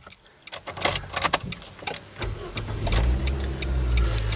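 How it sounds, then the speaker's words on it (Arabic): Interior of a 2016 Nissan Sunny SV1 as the ignition is switched on, with faint clicks and key jingles followed by a low hum and rumble that builds and holds steady, close by. "خلينا نشغل السويتش السيارة ونشوف العداد السيارة"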